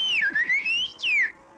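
A person whistles in a cartoon, two loud sliding phrases close up, the first wavering down and up and the second sweeping downward, with no talk.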